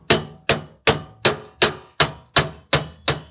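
Nine evenly paced, sharp hammer blows driving splines into a trailer equalizer suspension part, each strike loud and close with a short ringing decay and no talk.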